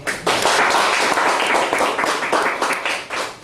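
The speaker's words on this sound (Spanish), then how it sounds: "Ustedes se merecen un fuerte aplauso." Students at a university campus in Puerto Plata receive a round of applause, a dense burst of clapping from a room of people that holds steady for a few seconds.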